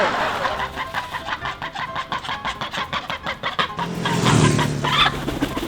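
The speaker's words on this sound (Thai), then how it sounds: "ไปปล่อยเป็ดนะเนี่ย" A flock of ducks being let out of their pen on a farm with many animals, giving rapid, busy clucking and quacking calls that keep up throughout and swell louder near the end, with an engine-like hum in the background.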